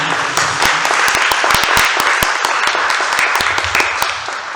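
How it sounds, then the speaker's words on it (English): A debate audience gives the panelists a round of applause, loud and close with sharp individual claps cutting through a thick, continuous wall of clapping. "Let's give these gentlemen a round of applause"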